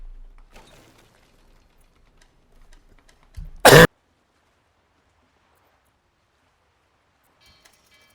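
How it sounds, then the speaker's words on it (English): A single sharp, loud cough bursts out close to the microphone in near silence, preceded by faint rustling and followed by quiet, with only small ticks near the end. "I apologize for any cough."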